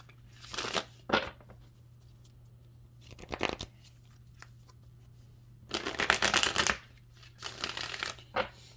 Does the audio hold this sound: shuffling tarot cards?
yes